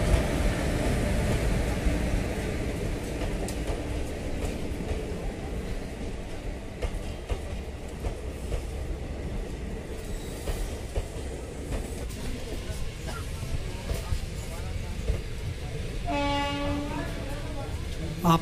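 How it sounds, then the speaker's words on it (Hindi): The Krishak Express pulls out of Jakhaniya railway station on its Banaras City to Lucknow run. A loud, continuous rumble of wheels and cars rolls on throughout, the horn sounds near the end, and someone talks over the noise. "आप सब देख रहे हैं अभी क्रिशक एक्सप्रेस का डिपार्चर जखनिया रेलवे स्टेशन से।"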